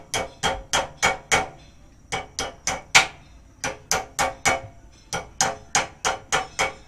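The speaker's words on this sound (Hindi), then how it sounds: "यहाँ पे हल्का हथौड़ा मारना है।" A hammer taps repeatedly on Pulsar 150 disc brake parts being fitted to a Bajaj Boxer motorcycle: sharp, close metallic knocks in quick bursts of four to five, separated by short pauses.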